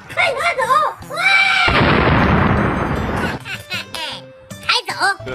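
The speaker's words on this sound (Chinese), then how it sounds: "放鞭炮" Firecrackers going off in a dense, loud burst of crackling pops lasting a couple of seconds, framed by excited children's voices talking before and after.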